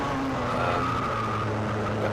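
A race kart spinning out at a hairpin during a Club 100 sprint race at Llandow, tyres skidding in a continuous, loud, smeared rush of noise with engine drone underneath.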